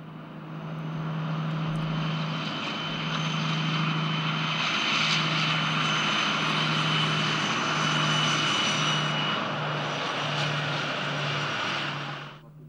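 A V200 diesel locomotive with original 1956 Maybach engines gives a loud, steady engine drone with a low tonal hum throughout, swelling slightly and fading at the end, with no voices.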